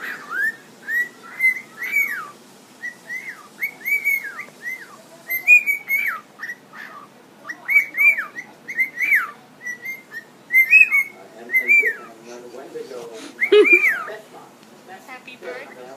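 A cockatiel whistles and sings in a long string of bright, rising chirped phrases. The phrases repeat in quick bursts with short pauses between, loud and close, and grow busier and more tangled toward the end.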